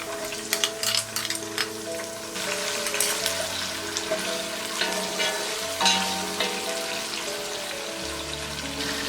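Green chilies, peas and tomatoes frying with onions for vegetable tahari: a continuous close crackling sizzle with intermittent stirring scrapes and a few sharper pops, no voices.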